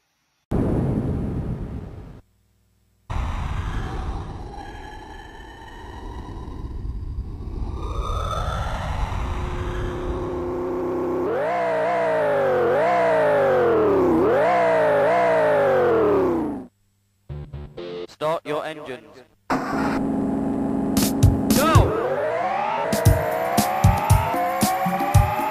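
Jaguar XJ220 racing game on the Sega Mega CD, with loud whining, rising car engine revs and tyre squeals cutting in and out between bursts of game music and effects.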